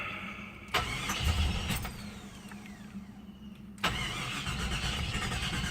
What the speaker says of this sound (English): I want to give you an example of how this guy's running, or not starting quite like I would like it to.